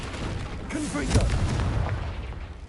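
Confringo spell blasts go off in Hogwarts Legacy, with low booming explosions and crackling bursts under a voice calling out, a heavier hit landing in the middle.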